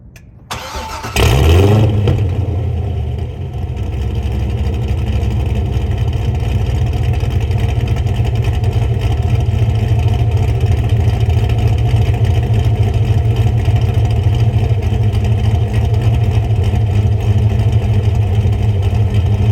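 A Corvette C6's LS2 V8 fires up on a hot start with the exhaust cutouts open, a sharp starter burst followed by a loud, steady, rumbling idle that holds close and unbroken for the rest of the stretch, no voices.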